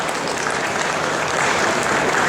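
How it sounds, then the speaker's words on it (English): A crowd at a horse demonstration event gives a short burst of steady, dense applause for a rider and his horse, close and loud with no break. "Round of applause for Austin and Trifon."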